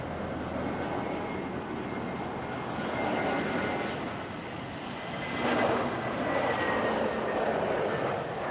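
A TAP Air Portugal Airbus A319 at Lisbon Airport on a cloudy, windy evening produces a broad, steady engine roar that swells slightly toward the end, heard from a distance over wind with no speech.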